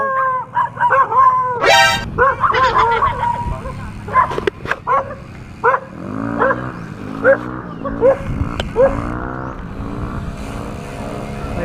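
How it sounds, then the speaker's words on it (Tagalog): A dog barks and yips repeatedly with howling, whiny tones, mixed with background noise and a passing vehicle, the barking close and insistent. "Galit na galit yung aso guys."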